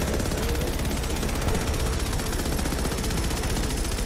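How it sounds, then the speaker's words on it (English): Enemy missile fire in the sci-fi shooter game Starhawk, a dense continuous roar of explosive blasts and rapid gunfire that stays loud and steady throughout with no clear gaps. "they fire missiles at me"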